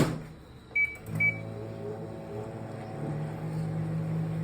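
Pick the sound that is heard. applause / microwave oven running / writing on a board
microwave oven running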